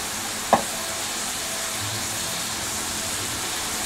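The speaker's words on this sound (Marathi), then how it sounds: "चांगलं हलवून घ्यायचं, एकजीव करायचं. भाजून झालं की मटकी त्यामध्ये टाकायचं." Masala is stirred and fried in a pan with a steady, even sizzle and one sharp scrape or tap near the start. There is no talk.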